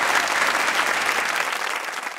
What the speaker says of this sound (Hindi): तालियां देंगे ऑडियंस के लिए।